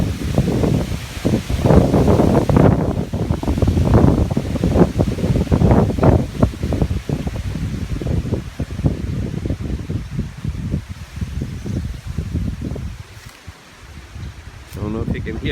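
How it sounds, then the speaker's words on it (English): Strong wind gusting across an island shoreline, a steady broadband roar with rustling leaves, continuous and close throughout, with someone talking over much of it. "The wind has been kicking up quite a bit."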